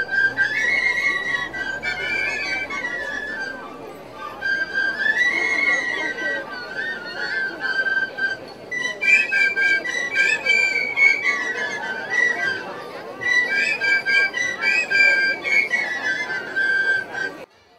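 Groups of traditional Romanian shepherd's flutes played together on an outdoor stage at a folk costume festival, bright whistling melodic phrases repeating in waves over a murmuring crowd.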